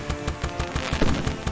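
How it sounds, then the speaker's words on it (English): Rapid popping bursts of bottle rockets and fireworks from a Construct 3 game, Ready, Aim, Release, firing in a quick regular stutter of sharp cracks with a brighter pop partway through. "you have the bottle rocket sounds and that one individual firework sound"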